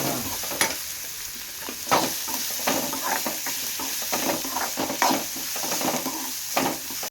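Carrot, curry leaves and green chillies stir-fried in hot oil, a continuous close sizzle broken by repeated scraping stirs of a spoon against the pan, with no talk.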